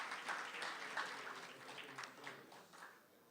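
An audience at a policy summit session claps and applauds, a faint, steady wash of many hands heard from a distance, gradually thinning out toward the end.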